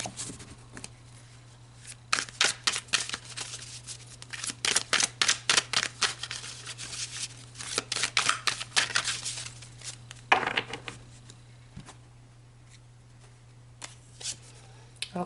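Tarot cards being shuffled by hand in bursts of rapid riffling and flicking, close and fairly quiet over a steady low hum, with short pauses between rounds.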